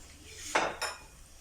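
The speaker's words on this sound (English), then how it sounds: "Just going to give this a nice stir." A spoon stirring tinfish biryani in a metal cooking pot, two quick scraping clinks about a quarter second apart, close and fairly quiet against a low background.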